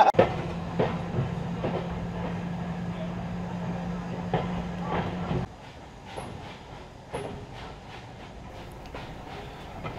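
A heritage train runs along the Mountsorrel branch of the Great Central Railway in Leicestershire. A steady rumbling hum with rhythmic clicks carries through the first half, then drops to a quieter rolling sound.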